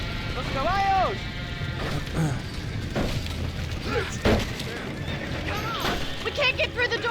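Panicked horses in a burning barn in Red Dead Redemption neigh loudly several times over a dense background of crackling fire and commotion, with a sudden thud midway and voices speaking.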